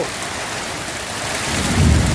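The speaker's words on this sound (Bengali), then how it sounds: "দেখো আমার এখানে প্রচণ্ড পরিমাণে বৃষ্টি হচ্ছে" Heavy rain pours steadily and loudly, a dense broadband hiss that swells near the end with a low rumbling surge.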